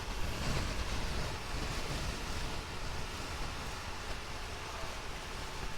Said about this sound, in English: It must be windy out.